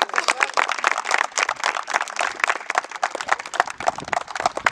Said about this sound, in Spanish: Un aplauso a Guaconapa.